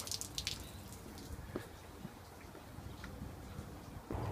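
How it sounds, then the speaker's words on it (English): A small waterfall beside a harbour walking track between Spit Road Bridge and Manly gives a soft, steady trickle of running water, faint and continuous, with a few brief drips near the start. "Mini waterfall."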